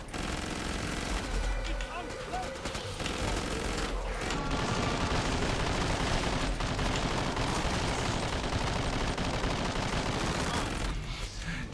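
Mac-10 fire in Killing Floor 2, rapid sustained bursts of automatic gunfire mixed with in-game impacts and effects, loud and dense for nearly the whole stretch, with a voice talking over it.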